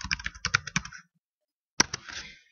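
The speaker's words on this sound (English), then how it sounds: "So we're going to just type that in." Typing on a computer keyboard while entering a domain name, a quick burst of close, crisp keystrokes, then a pause and a few more clicks trailing off.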